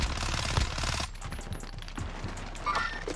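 Gunfire in a Call of Duty: Warzone match on Rebirth Island, with rapid bursts of shots up close at first, then scattered cracks and action noise at a somewhat lower level.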